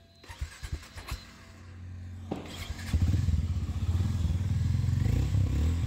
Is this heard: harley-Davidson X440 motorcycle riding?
yes